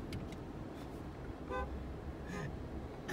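Short car horn toots sound a few times in traffic around a Tesla Model X on a test drive, faint and intermittent against a steady road rumble.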